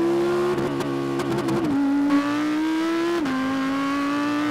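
Audi R8 cars launch side by side in a drag race held in manual third gear, engines droning in a loud sustained tone that climbs, wavers through a shifting rough patch, and steps down as the pitch settles.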